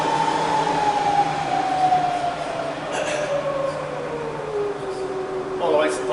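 A Bridgeport milling machine spindle runs in low range, a steady quiet motor whine that slowly drops in pitch as it settles, with a voice speaking briefly over it.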